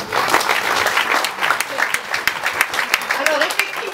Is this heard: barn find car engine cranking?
no